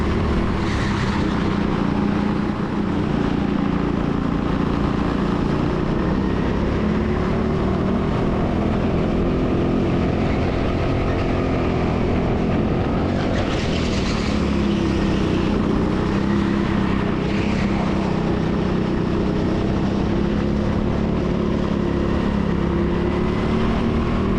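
Racing kart engine at a TeamSport indoor track during a 50-lap race, its steady loud drone running continuously with an intermittent tapping knock, the pitch rising and falling slightly as the kart accelerates and slows.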